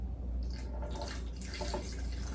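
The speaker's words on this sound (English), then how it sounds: "Let's add some bay leaves and our beef broth." Beef broth pours into a pan of seasoned ground beef for a birria-style casserole, a steady close splashing trickle of liquid that runs continuously without pause.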